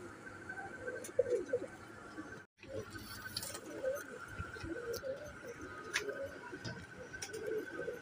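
Royal teddy pigeon cooing steadily, with soft low coos repeating over a constant background hum and a brief dropout midway; no talking.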